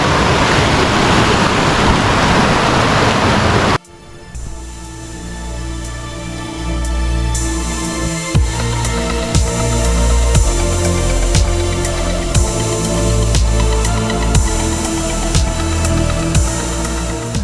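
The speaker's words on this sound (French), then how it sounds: "La cascade de la Pisse est haute de 40 mètres." The Cascade de la Pisse, a 40-metre waterfall in the Alps, roars as a dense, loud, continuous rush of falling water; after an abrupt cut, a steady, powerful torrent follows with wind buffeting the microphone.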